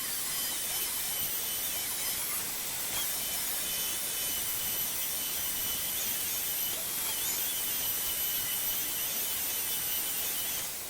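Power sander working a solid oak tavern sign with a shop vac attached, a steady loud broadband whir with a high whine holding evenly throughout, no talk.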